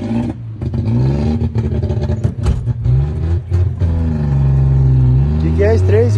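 A DKW Vemaguet car engine fitted with an exhaust diffuser, its two-stroke note rising and falling in loud revs close by, with someone talking over it.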